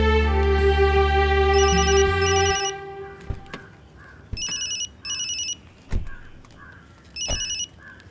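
A telephone rings in a Telugu film scene: after a swell of music fades out, the bell rings in several separate bursts with short gaps between them, loud and close.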